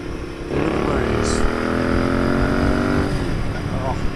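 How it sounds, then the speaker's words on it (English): Royal Enfield Interceptor motorcycle engine revving up, its exhaust note rising and holding steady for a few seconds before dropping back, fairly close and loud with a light voice briefly over it. "Now the exhaust is a nice note, but it's not too intrusive."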